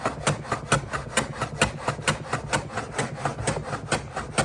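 A hand plane pushed across the end grain of a timber frame in a carpentry workshop, quick evenly spaced rasping strokes repeating steadily at close range, with no voices.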